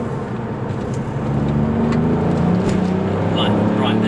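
A Ford Fiesta ST fitted with a Mountune throttle body revs up, its engine note rising and holding loud and near, with a voice talking over it.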